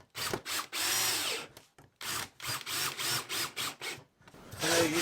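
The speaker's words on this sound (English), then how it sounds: "Screw your handle on." A power drill drives a screw to fix a small wooden block handle onto a wooden wedge jig, whirring loudly and close in several short bursts with brief pauses between them, and no talking.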